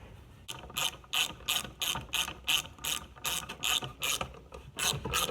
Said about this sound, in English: Go ahead and install our new bolts provided by KC Turbo's kit.